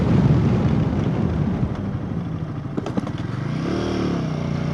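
A motorcycle rides along an expressway and slows at a toll, its engine note rumbling under wind noise and then rising and falling as it downshifts.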